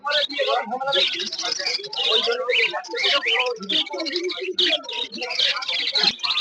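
Caged birds at a bird market, including cockatiels and finches, chirp and tweet in dense, rapid bursts. Someone speaks continuously over the birdsong.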